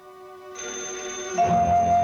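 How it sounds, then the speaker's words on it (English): A telephone rings in a 1959 Twilight Zone episode, a short electronic-sounding ring that starts softly and swells louder, heard alone just before it stops. "Oh, phone."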